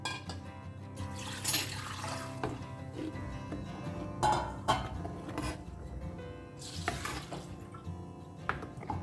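Water splashes and trickles into a mixer jar or pot to loosen masala paste for a Goan-style sardine curry, with clinking glass and utensils, steady and close with no talk.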